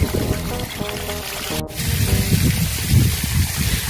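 Water pours and splashes steadily from a makeshift farm irrigation rig used to water a sugarcane field in a village, a continuous gushing flow that grows heavier in the second half after a brief break.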